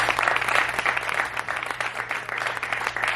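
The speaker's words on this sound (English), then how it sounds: "So let's please give our sponsors a big round of applause." Audience at a county executive international forum gives a round of applause for event sponsors, a steady wash of clapping throughout with a faint low hum underneath.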